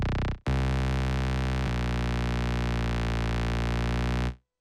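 A sustained, buzzy synth bass kick tone with a deep, distorted low end and subtle pitch shifting holds steady for about four seconds after a brief cut, then stops abruptly.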